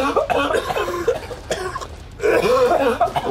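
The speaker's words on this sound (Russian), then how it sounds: "У вас что, туберкулез у всех, что ли? Что вы так кашляете-то?" Several people cough in a close, noisy indoor setting, bursts of harsh hacking repeating irregularly and overlapping, with some throat clearing mixed in.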